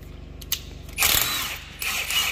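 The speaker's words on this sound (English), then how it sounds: "We just pull this bolt," A metal bolt pulled from a tractor's three-point hitch quick coupler holding an anhydrous bar, giving a short click and then a scraping, rattling metallic slide, close and alone.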